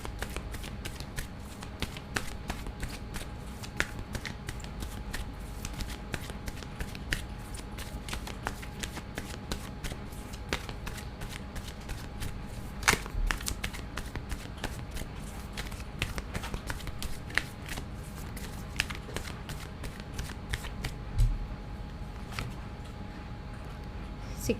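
Tarot cards being shuffled over and over at close range: quiet, rapid riffling and flicking that runs steadily with small taps, no voice.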